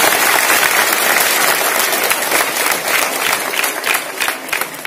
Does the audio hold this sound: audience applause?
yes